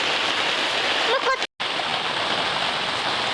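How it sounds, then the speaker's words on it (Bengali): Steady rain falls outdoors, a dense continuous hiss, with a short burst of talk partway through before a brief cut. "কেমন বৃষ্টি হচ্ছে"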